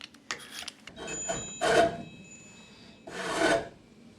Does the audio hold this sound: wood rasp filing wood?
yes